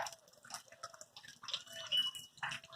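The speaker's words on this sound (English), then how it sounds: "It's dripping off the roof." Rainwater drips off a roof onto a wet sidewalk during a light rain in Mesa, Arizona, soft irregular patters and taps, quiet and close by.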